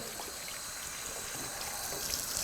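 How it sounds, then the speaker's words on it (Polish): Water from a tap runs steadily over the cutting head of an electric shaver, rinsing off disinfectant, a soft continuous hiss and trickle at a constant level with no talking. "należy następnie ten środek dezynfekcyjny dokładnie spłukać z powierzchni, z powierzchni kasety tnącej"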